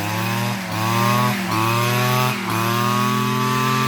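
A small grass trimmer engine rigged up as an air blower runs in a loud, steady buzzing drone nearby, dipping briefly a few times as the throttle shifts, with no talking.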